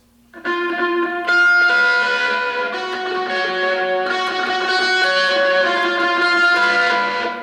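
An electric guitar chord is struck and rings out with a long, full sustain, then is played again and keeps ringing. No one speaks.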